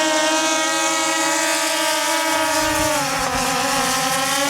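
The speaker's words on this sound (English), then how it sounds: "Listen to that drone." Aeroo Pro drone propellers straining to lift a load of over four pounds, a loud, steady, close buzzing whine with layered harmonic tones that wavers slightly in pitch toward the end.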